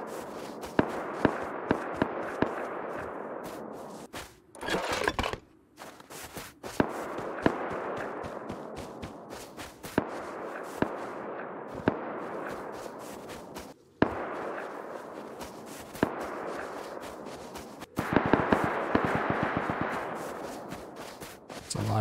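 Gunfire in the video game Rust, with rapid cracking shots in bursts and single reports, some near and sharp, others farther off, with footsteps between them.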